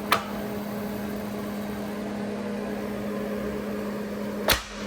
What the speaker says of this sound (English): you hear that snap? That means the film has completely went down